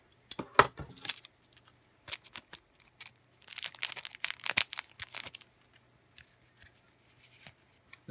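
A foil sports trading card pack is torn open with sharp crinkling rips, coming in scattered bursts and a longer stretch of crackling tearing, close and fairly quiet.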